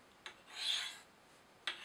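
Knife edge drawn across Spyderco Sharpmaker ceramic stones, two quiet, sharp rasping strokes at either end with a softer, longer swelling scrape between, close and alone.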